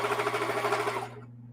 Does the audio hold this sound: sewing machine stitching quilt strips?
yes